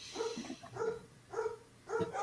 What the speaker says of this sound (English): Who the fuck's dog is losing their mind?